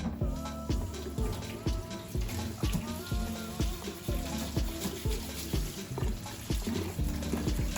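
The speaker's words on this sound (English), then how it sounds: "Now we're just going to rinse 1/2 cup of quinoa." Quinoa, half a cup, rinsed under running tap water in a kitchen while preparing a roast pumpkin salad; a steady, close splashing stream with rhythmic pulses of sloshing as the grains are swirled, with no talking.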